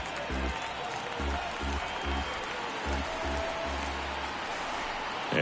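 Steady crowd roar from a baseball video game stadium, a continuous wash of cheering and murmur with low thumping pulses, building gently across the stretch without any talk over it.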